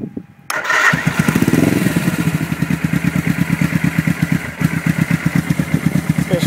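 A Suzuki GS 425L motorcycle engine cranks and fires up, then settles into a close, loud, steady pulsing idle.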